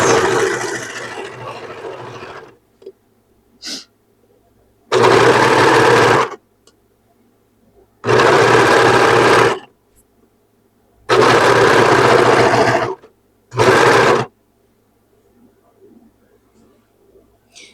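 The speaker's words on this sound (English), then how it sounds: "I just try to put them on here, get my foot pedal. You know, they tend to walk away. And I'm just going to start sewing this." Serger sewing machine stitching a dress, four loud bursts of rapid whirring separated by quiet pauses, with a short initial run and faint clicks in the gaps.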